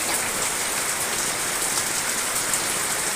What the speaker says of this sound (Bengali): এই দেখো খুব বৃষ্টি হচ্ছে